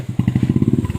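A motorcycle engine putters close by in rapid, even low thumps, loud and alone for a brief moment.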